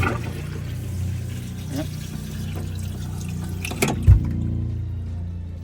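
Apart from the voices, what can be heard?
water running in RV sink and toilet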